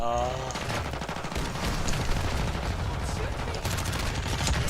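Gunfire in the video game Warzone 2, a dense run of repeated shots and bursts at moderate level, with a voice talking over parts of it.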